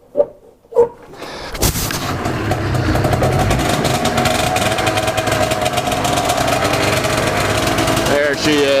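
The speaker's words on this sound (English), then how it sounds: "Kinda sounds like it's running on 1 cylinder." A Ski-Doo 470 snowmobile engine, revived after sitting in storage, coughs with a couple of sharp pops before catching, then runs loud and close in a rough, uneven drone, firing on only one cylinder.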